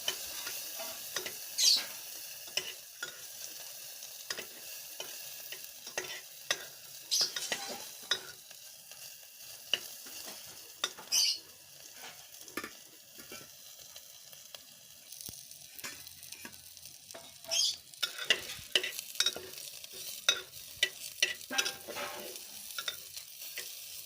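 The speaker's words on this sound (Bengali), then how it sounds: "গোটা গরম মশলা আর এলাচ দিয়ে একটু নেড়ে নিলাম" Whole garam masala and cardamom are stirred with onion in hot oil in a pan, a soft steady sizzle broken by sharp scraping clicks of the spoon, quiet and close with no talking.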